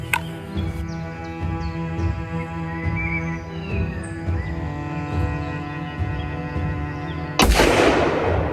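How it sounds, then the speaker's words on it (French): A single loud rifle shot from a Beretta BRX1 Strata cracks out at the start, and its long rumbling echo rolls on for several seconds. A second sharp burst follows near the end, with no talking. "je viens de tirer le premier coup"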